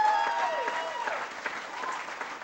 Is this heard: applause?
yes